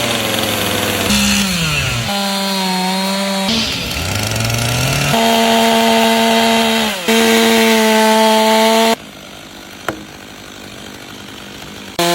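A chainsaw cuts handcrafted saddle notches into large timber logs for a log home, its engine loud and close, revving up and down through repeated cuts.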